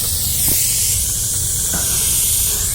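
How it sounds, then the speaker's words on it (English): A Rust-Oleum spray paint can leaking and spraying, a loud continuous close hiss of escaping paint and propellant that holds steady throughout, with no talking. "I'm not even holding the trigger, and it's still spraying"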